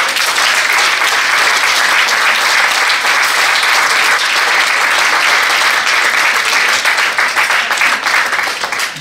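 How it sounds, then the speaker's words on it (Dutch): Thunderous audience applause at the Mrs Universe Belgium 2020 pageant, greeting a rainbow-house gown's creator. Dense, steady clapping fills the whole stretch at full strength, then thins slightly near the end. "die is een daverend applaus"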